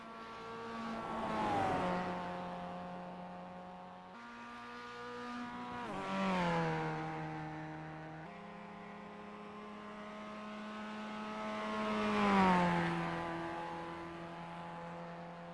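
Mazda MX-5 Cup race cars lapping the Nurburgring in iRacing, engines rising and falling through repeated gear shifts as cars pass close by, loud, with no talk.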